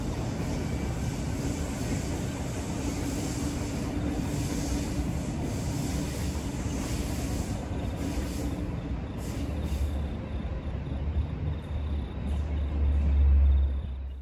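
The Indian Pacific passenger train departing Sydney Central Station, a steady distant rumble and rolling wheel noise that swells slightly toward the end, no voices.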